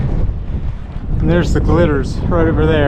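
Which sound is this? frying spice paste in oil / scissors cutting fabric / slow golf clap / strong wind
strong wind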